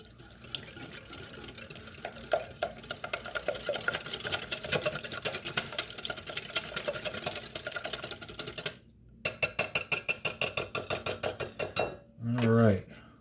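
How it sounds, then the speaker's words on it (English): A whisk beats a carbonara sauce mixture in a bowl, clinking busily at first, then settling into a fast, even run of strokes before a brief pause and a final scrape. "Now we're going to whisk all that together."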